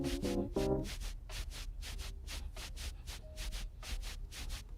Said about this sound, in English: sounds like someone rubbing something on the shaker track.